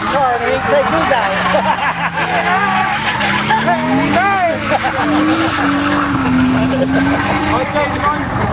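Cars drifting at the 2011 Devon Car Show, loud engines revving with steady, sustained tire squeals and skidding close by, continuous across the whole stretch while people talk over it.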